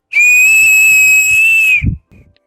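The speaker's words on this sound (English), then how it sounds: "With four-finger whistle" A loud, piercing human whistle made with the four-finger technique, one steady high tone held for nearly two seconds before cutting off, followed by a brief faint breath.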